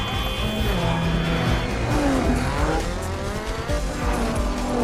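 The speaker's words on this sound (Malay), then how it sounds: "Kejar mengejar kereta berlaku di jalan raya Tokyo." Cars chasing each other through Tokyo streets in a drift racing film scene, with continuous loud tire squeals and skidding over roaring engines, pitch sliding up and down throughout.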